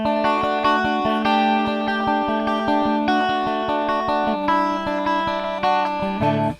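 A 12-string electric guitar with both humbuckers on rings out with bright, shimmering strummed chords and picked notes in a steady rhythm, loud and close, processed through an effects unit.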